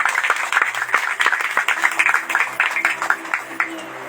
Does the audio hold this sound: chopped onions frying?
no